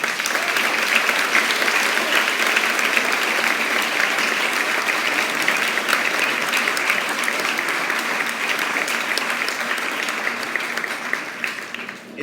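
A graduation audience applauds the teachers with loud, sustained clapping that carries on steadily for about twelve seconds before tapering slightly at the end.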